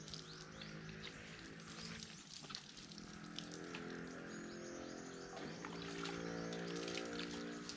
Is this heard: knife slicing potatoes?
no